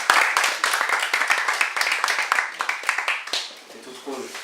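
Applause from an audience at a training and coaching session, a dense run of clapping for several seconds that thins toward the end, with voices talking over it.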